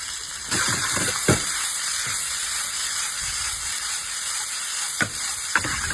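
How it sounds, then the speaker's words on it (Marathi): Masala gravy with softened tomatoes, cashew pieces and whole spices sautéing in a pan, a steady loud sizzle broken by a few sharp clicks of a spoon against the pan. "मसाला व्यवस्थित अजून 15 मिनिट आपण असं परतून घेऊ।"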